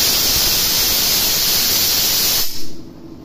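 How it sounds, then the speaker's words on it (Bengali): Dried peas boiling in a pressure cooker for ghugni, a steady loud steam hiss that runs unbroken for about two and a half seconds and then cuts off abruptly. "এখন এখানে মটর সিদ্ধ হচ্ছে"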